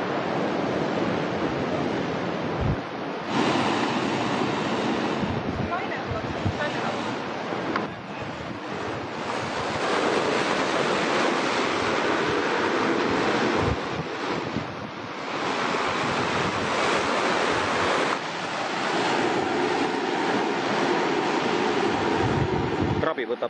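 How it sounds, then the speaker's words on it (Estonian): River water rushes steadily while strong wind buffets the microphone, a loud, continuous broadband roar with gusty surges that lasts throughout, with no clear voices. "This is the river."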